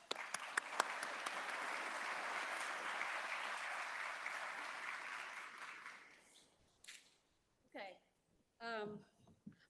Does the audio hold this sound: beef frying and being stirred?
no